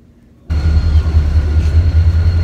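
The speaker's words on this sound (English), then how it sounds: "I don't think I've ever been this close to a train before" A train passes very close by: a loud, heavy rumble cuts in abruptly and continues as a steady, roaring wash of rail noise, with no voices.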